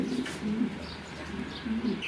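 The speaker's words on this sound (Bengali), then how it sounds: "আর এখানে একটা মডানা কবুতর, গাজী মডানা যাকে বলে" A Gazi Modena pigeon sitting on two eggs in a fancy pigeon loft gives several soft, low coos. The cooing is close and fairly quiet, with faint background voices.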